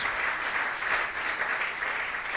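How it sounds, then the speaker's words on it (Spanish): Congregation at a church sermon gives strong, continuous applause, a thick, even roar of clapping that stays loud and unbroken from start to finish. "Dele ese fuerte aplauso al Rey por esa palabra."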